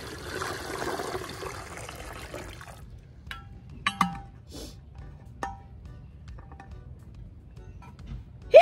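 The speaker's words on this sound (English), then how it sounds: "I'm gonna pour my water in here and get to washing." Water from a container is poured into a dishwater basin of vinegar rinse water at a van campsite, a steady splashing pour for a few seconds, then fading into scattered drips and small clinks of dishes nearby.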